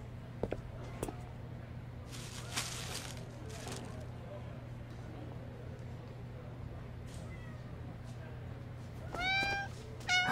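Cats meow in the video game Love and Deepspace: a few short mews early on, then a quick run of high, rising cries near the end, over a steady low hum and game ambience.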